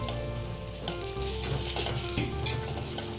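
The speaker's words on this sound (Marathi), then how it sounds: "आता हे खजूर थोडंसं भाजून झालंय" Dates roasting in a pan for dry fruit laddu, with a steady sizzle and the repeated scrape of a spoon stirring them, close and continuous.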